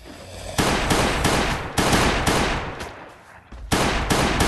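Rapid bursts of automatic gunfire as a player shoots a zombie in the survival game Last Day on Earth, loud and close, several sustained volleys separated by brief pauses, with no talking.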